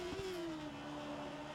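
A Formula One car engine from the F1 2013 racing game whines at a high, steady pitch that glides slowly downward. It is sustained and moderately loud, with a brief low thump near the start.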